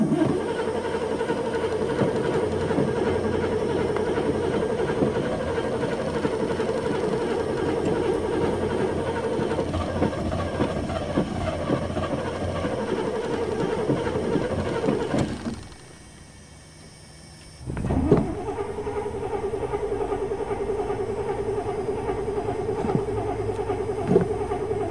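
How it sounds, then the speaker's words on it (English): A car engine cranks and runs with a steady mid-pitched idle hum, cuts out briefly near the end, then restarts with a sharp catch and settles back into a continuous running drone. "Come on, car, you have to start for me"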